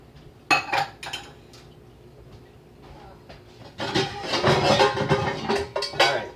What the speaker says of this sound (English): we're going to take a pan